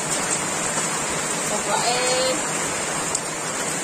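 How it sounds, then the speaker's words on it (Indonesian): Steady rain falls over a village, a dense even hiss that continues throughout, with a brief spoken word over the downpour. "Langsung hujan di sini."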